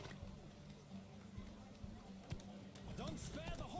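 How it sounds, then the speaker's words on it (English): Horse galloping in The Witcher 3: Wild Hunt, a steady run of soft hoofbeats low in the mix under a constant background bed, with a few sharper thuds near the end. "Don't spare the horse!"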